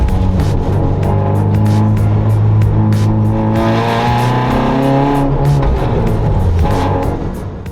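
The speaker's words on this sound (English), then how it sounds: "it's very weird driving my race car on the road" A Toyota Corolla Circuit Excel race car, set up for rallying and driven on a public road between Adelaide Rally stages, drones loud and close, its engine note climbing through the revs before easing off at the end.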